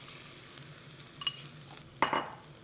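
A utensil stirs eggs and feta in a buttered pan over medium heat, producing light scattered scrapes and a sharper metallic clink near the end over a faint sizzle, with no talk.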